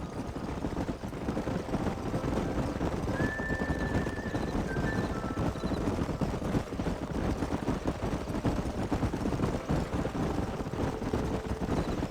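Horses galloping and neighing in the Red Dead Redemption video game: continuous rumbling hoofbeats fill the scene while a brief whinny rises briefly over them, with no voices.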